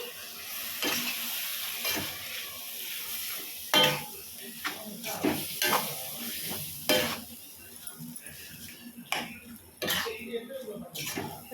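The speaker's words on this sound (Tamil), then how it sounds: "நம்ம ரெடி பண்ண சால்னா சேர்த்து இதில் கொஞ்சம் விட்டு நல்லா ஒரு பெரட்டி பெரட்டி விடணும் சால்னா ஊற்றி" Kothu parotta being stirred and chopped with salna on a roadside-style griddle: sizzling with repeated scraping and metal clatter, irregular bursts throughout, with a cough or brief voice sounds in places.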